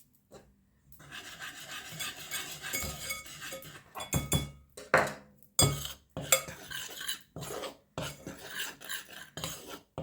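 A utensil stirs cake batter in a bowl, making repeated scraping strokes and light clinks against the sides in an uneven, fairly steady rhythm, close and clear.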